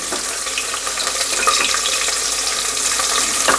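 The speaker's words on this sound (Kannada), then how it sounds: "ಈಗ ಮೆಣಸಿನ್ಕಾಯಿ ಹಾಕ್ತಾ ಇದ್ದೀನಿ" Green chillies frying in ghee over a low flame, a steady bright sizzle and crackle that runs continuously without a break, close to the pan, with occasional faint stirring scrapes.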